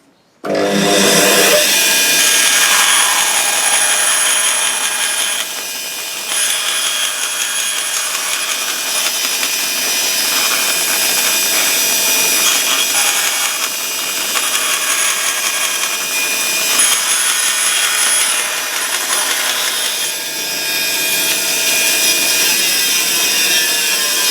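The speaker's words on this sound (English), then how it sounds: "I'm going to cut a piece of plastic as well, just while the bandsaw blade's set up" A bandsaw cuts through a piece of plastic with a loud, continuous high whine and rasp that starts abruptly and runs almost steadily, with slight dips in intensity as the cut progresses.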